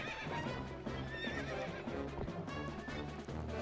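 A horse whinnies while hooves clop steadily, loud and close, over a dense layer of background music, in the video game The Legend of Zelda: Twilight Princess HD.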